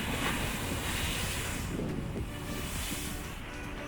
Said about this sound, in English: after not being able to get to the caves due to the high waves